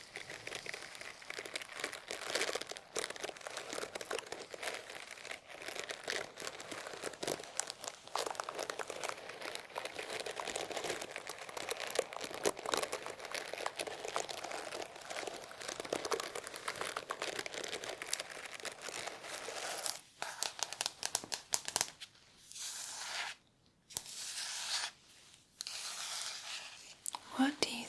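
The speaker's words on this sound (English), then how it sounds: "It is a hairbrush." Hairbrush handled close to the microphone for ASMR: soft, continuous crinkly scratching and rustling bristle textures with brief pauses near the end, under faint whispery sounds.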